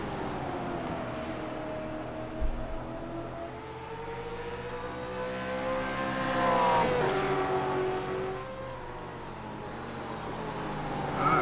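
Supercars Gen3 race cars circling Richmond in a racing video game, engines droning steadily with rising and falling pitch sweeps as cars pass close, a brief knock near the start, no talk.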